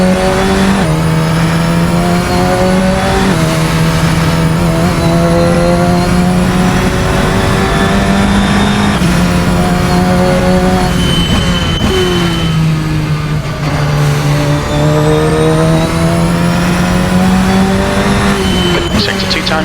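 A Radical SR10 XXR race car from United Racing Design revs hard around a track, its engine note climbing and dropping through gear changes and corners, loud and continuous with a voice talking over it at times.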